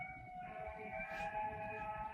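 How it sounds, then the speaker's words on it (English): A wailing siren holds steady tones in the distance, sustained over a low rumble of background noise, with no voices. "Can y'all hear that siren?"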